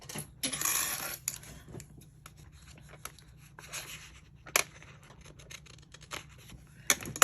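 Scissors snip and rasp through paper up close, with a burst of rustling early on followed by scattered clicks and scraping.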